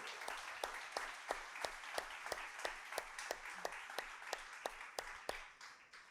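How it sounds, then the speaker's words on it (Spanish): A church congregation claps loudly and steadily in a sanctuary during a Spanish-language sermon, sharp claps falling in a regular rhythm that holds for several seconds before easing off slightly. "Usted es libre, dele palmas a Rey. Apláudele fuerte."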